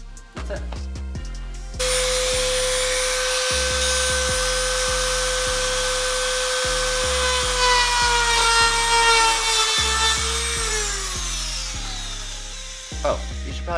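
A cutoff wheel grinds into the sheet-metal body of a Toyota 4Runner, a steady high whine with a rhythmic thumping bed beneath it, starting after a brief knock and running loud and continuous for about eleven seconds before winding down.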